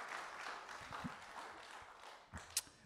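Audience applause after a lecture on an old horsemanship treatise, soft and fairly distant clapping that tapers off, with a few louder knocks near the end.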